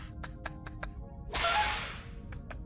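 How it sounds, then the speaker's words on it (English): A single sharp whip crack snaps out in a bright burst that decays over about half a second, set between several soft, evenly spaced clicks. "I was going for the whip crack"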